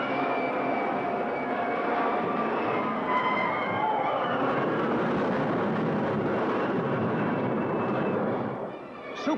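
Supersonic jet roaring across a monster-movie trailer soundtrack, a loud sustained rushing whoosh that swells and holds for several seconds before fading at the end.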